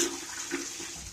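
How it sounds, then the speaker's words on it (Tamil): Half flush of a newly fitted toilet in a renovated bathroom, a steady rush of water, close and moderately loud, continuous throughout with no talking. "முதல்ல ஹாஃப் ஃப்ளஷ் ட்ரை பண்றோம்."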